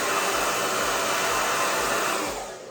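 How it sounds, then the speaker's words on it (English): Blow dryer runs in a steady, loud, close whooshing roar, setting hairspray on a sleek braided ponytail with extensions, then starts to fade at the end. "you freeze it with the blow dryer, you freeze it with your blow dryer"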